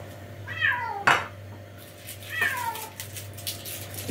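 Hungry cat in a home kitchen yowling loudly, two drawn-out meows about two seconds apart, with a brief clatter of dishes between them and a low background hum.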